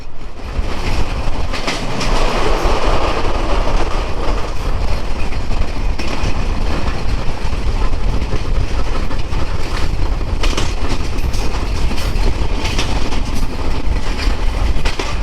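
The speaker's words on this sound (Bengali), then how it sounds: "রেলওয়ে স্টেশন পার হয়ে বিশাল এক যাচ্ছে আমাদের সুন্দরবন এক্সপ্রেস ট্রেন" The Sundarban Express train, Dhaka to Khulna, rolls steadily along the rails, a continuous loud rumble with rhythmic clatter from the wheels and no voices.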